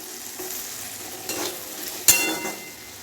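Cashews, raisins, cardamom and other whole spices with a little capsicum fry in a pan, giving a soft continuous sizzle with a couple of stirring scrapes and a sharp clink near the end, close up.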